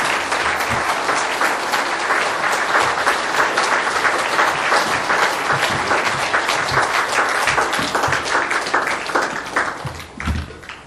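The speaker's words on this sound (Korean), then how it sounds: "우리 다 같이 한번 박수로 축하해 주시면 대단히 감사하겠습니다" A church congregation applauds together at a Presbyterian pastor's installation thanksgiving service, a dense, steady wash of many hands clapping at close range for about ten seconds before it begins to thin out at the end.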